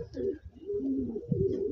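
Andhra pigeons with black bead-like eyes, kept for sale in Bagnan, coo in a low, steady, continuous murmur, close by and moderately loud, with no talk over it.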